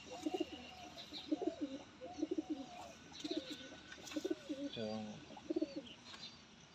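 Breeder pigeons coo softly in a steady series of repeated calls, faint and somewhat distant, with a low background hum and possible murmuring voices underneath.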